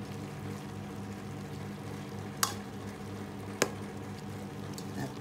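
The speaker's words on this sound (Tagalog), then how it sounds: "Ito po halo natin." Vegetables stirred in a pan, seasoned with shrimp paste and fish sauce, with a soft steady stir and gentle sizzle, plus two sharp utensil knocks against the pan.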